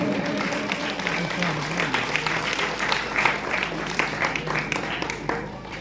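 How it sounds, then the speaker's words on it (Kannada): An audience applauds steadily throughout, with dense clapping and some crowd voices mixed in at moderate loudness. "ಮತ್ತೊಮ್ಮೆ ಜೋರಾದ ಚಪ್ಪಾಳೆ"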